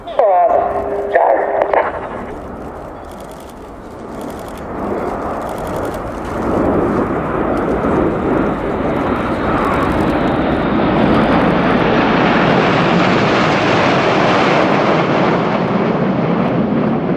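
A loud Red Arrows jet engine roar builds and sweeps past at an air show display, rising in pitch and intensity as it approaches, air brakes out, with a commentator talking over it near the start.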